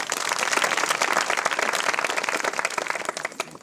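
Congregation clapping hands in a church during worship, a dense, steady wash of many claps close by, fading slightly toward the end.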